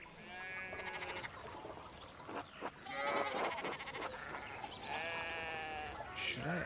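Sheep bleat in a farm pen in the video game Pentiment, several wavering bleats overlapping and repeating, moderately close, with a voice speaking faintly underneath.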